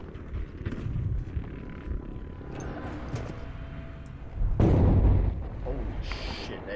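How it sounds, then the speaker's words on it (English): Explosions and artillery in Battlefield V multiplayer boom and rumble in repeated heavy bursts, one especially loud blast midway, with a voice talking over the game sounds. "there is so many explosions happening right now."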